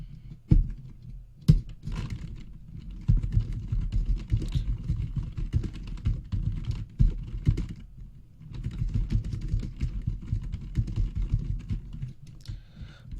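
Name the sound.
typing and pressing the enter key on a computer keyboard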